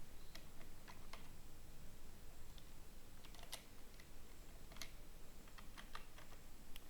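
Steady, fairly quiet typing on a computer keyboard, a continuous patter of key clicks with a few louder taps scattered throughout, heard close up over a faint hiss.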